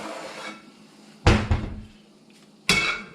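A heavy Dutch oven is pulled from a kitchen cupboard: a soft rummaging rustle, then a loud metallic clunk with a second knock half a second later, and another sharp bang near the end. No one speaks.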